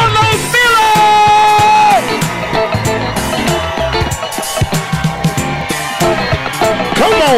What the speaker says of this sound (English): Make some noise for Chico B, DC Young Fly, and Karlous